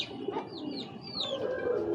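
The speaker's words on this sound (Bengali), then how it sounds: "আমি কবুতরগুলো একটু দেখাই এই দেখুন আর্মি নটটা" Large Army-breed pigeons coo nearby in soft, low repeated calls, with a few brief higher chirps and whistles over a steady background.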